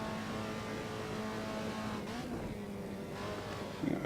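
Alfa Romeo 125 racing car engine in Assetto Corsa at the Nordschleife, a steady close engine drone that shifts pitch as it changes gear, with a brief tire squeal near the end and no talk.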